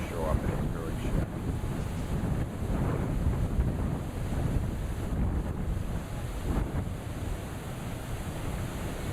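Surf breaking on a coral reef beyond a shallow lagoon in French Polynesia: a steady, broad wash of distant waves with wind buffeting the microphone throughout and no voices.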